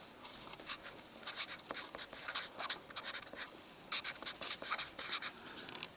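Writing by hand, a soft, close scratching of pen or pencil in short irregular strokes and bursts, quiet throughout with no talk.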